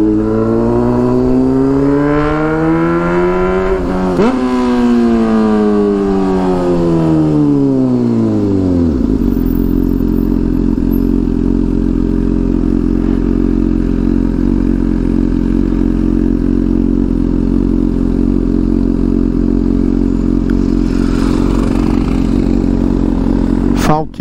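A Honda Hornet motorcycle exhaust revs loudly up and down, rising and falling in pitch before settling into a steady, deep, rumbling idle, very close and dominating throughout.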